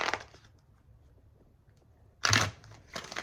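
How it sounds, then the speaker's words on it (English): Cards riffle briefly at the start, then after a quiet pause a louder riffling shuffle follows, close by and short. "I should probably shuffle a few more times"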